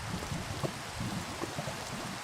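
Steady rain falling in the Minecraft game, a dense even patter that runs throughout with small random droplet ticks and no voices.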